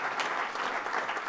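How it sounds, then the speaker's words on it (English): Audience applause for pitch contestants at a small-business pitch competition, a steady wash of many hands clapping at once, brief and moderately loud with no voices breaking through. "we need to do another round of applause because all 4 of them were incredible"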